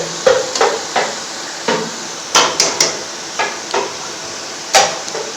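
Half a kilo of chicken is stir-fried in a pan for a chicken and lauki curry, with a spatula clanking sharply against the metal about ten times in an irregular rhythm over a faint sizzle.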